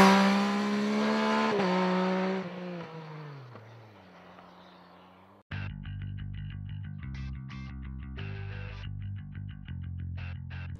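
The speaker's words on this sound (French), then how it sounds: "un beau bruit au niveau de la boîte à air et de l'échappement" A 2021 Yamaha MT-09 motorcycle engine revs up and holds, its airbox and exhaust roaring, then winds down and falls away before a choppy run of sharp revving bursts.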